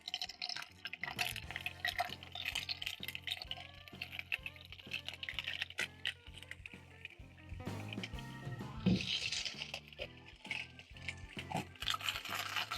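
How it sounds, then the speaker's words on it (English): Okra dropped into hot oil for shallow frying crackles and pops in rapid bursts, close and moderately loud, with a few louder spattering moments and no speech. "Once the oil is ready, you're going to carefully drop in your okra."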